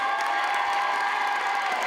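A Miss Belle en Forme pageant audience claps and cheers in a brief, dense burst, a steady roar of hands and voices with no clear talk over it.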